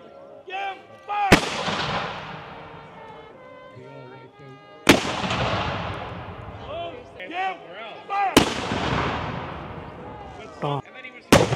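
Cannon fire at a War of 1812 battle reenactment sounds as three loud, sharp booms a few seconds apart. Each blast rolls off in a long echoing decay across an open field, while someone talks in between.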